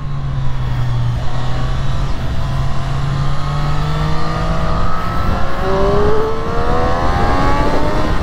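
A 2023 Triumph Street Triple 765 RS motorcycle accelerating hard into a wheelie, its engine note climbing steadily through rising revs, loud and close throughout with wind rush underneath.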